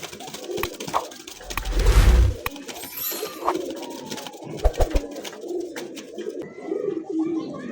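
A male pigeon of a Bengali domestic breed coos in soft, repeated throaty phrases, close by amid background chatter and rustling, with one louder low thump near the start.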